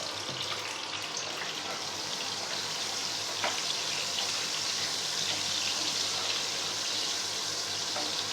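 Eggs with turmeric and salt fry in a pan for a dimer malaikari, giving a loud, continuous close sizzle with light stirring scrapes throughout.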